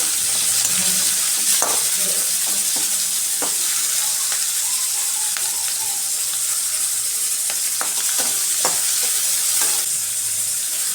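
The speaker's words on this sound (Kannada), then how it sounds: "ಈರುಳ್ಳಿನ ಹಾಕ್ಕೊಂಡು ಚೆನ್ನಾಗಿ ಫ್ರೈ ಮಾಡಿ" Onions fry in a hot pan with a continuous close sizzle, and scattered stirring scrapes and clicks of a utensil come through at an uneven rhythm, no one talking.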